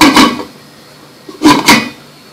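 A lid set down on a cooking pot of simmering rice in a home kitchen: two short clattering knocks, one at the start and a double clank about a second later, close and fairly loud over a quiet background.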